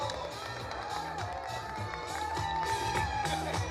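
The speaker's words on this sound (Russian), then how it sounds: "Громче, громче, громче аплодируем." Concert hall audience applauding, a dense steady wash of clapping mixed with crowd noise and faint voices throughout.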